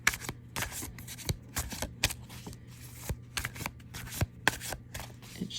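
A tarot card deck being shuffled by hand, with rapid crisp riffling and snapping cards in irregular bursts close to the microphone, continuing over several seconds with no talking.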